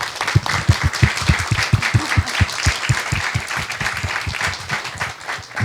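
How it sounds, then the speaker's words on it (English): An audience at a talk on living through climate change applauding a speaker named Kate, a loud, sustained round of many hands clapping close by for several seconds, fading slightly at the end. "Ladies and gentlemen, a round of applause for Kate."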